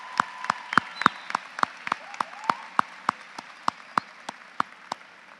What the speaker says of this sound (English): Let's give each of those campuses a round of applause.